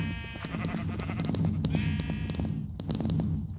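Sheep in a video game bleat repeatedly, several overlapping bleats over a busy, clicky game soundscape, loud and near.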